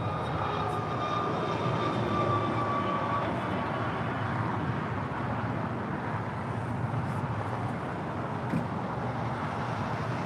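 An Avianca Airbus A330 departs from LAX's south side, bound for San Salvador, its engines a steady broadband roar that holds at constant loudness throughout.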